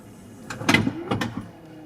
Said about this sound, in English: we can hear that the door successfully closes